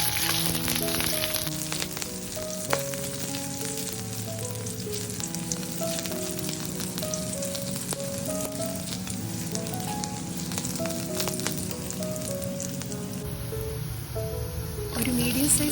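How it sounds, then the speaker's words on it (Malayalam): Mustard seeds, cumin, chopped ginger garlic and curry leaves fry in hot oil with a steady, busy sizzle and crackle, while a tonal musical backing plays over it throughout. "ഓയിലൊന്ന് ചൂടായി വരുന്ന സമയം ഇതിലേക്ക് കടുകും കുറച്ച് ചെറിയ ജീരകവും 1 ടേബിൾ സ്പൂൺ ജിഞ്ചർ ഗാർലിക് ചോപ്പ് ചെയ്തതും കുറച്ച് കറിവേപ്പിലയൂടെ ഇട്ട് ഒന്ന് ചൂടാക്കി"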